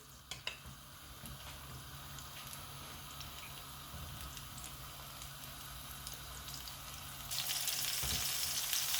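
Tomato rings frying in shallow oil: a steady, soft sizzle and crackle throughout, with a few small pops near the start and the sizzling swelling louder toward the end, no voices.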